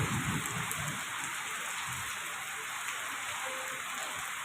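Heavy rain beats down on surfaces near Dum Dum Cantonment, a constant dense hiss of close drops with faint low rumbles and no clear voices.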